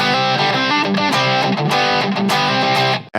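Loud, gritty distorted electric guitar riffing with chugging chords, played continuously and up close on a carbon fiber electric guitar with built-in speaker and effects, cutting off abruptly at the end.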